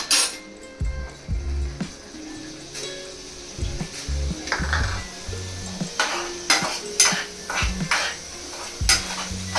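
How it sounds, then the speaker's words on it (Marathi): Onion and curry leaves fry in hot oil in a pan for prawn masala, with a continuous sizzle overlaid by repeated stirring scrapes and clinks of a utensil against the pan, close and moderately loud. "आता कांदा ब्राऊन होईपर्यंत आपण वेट करूया."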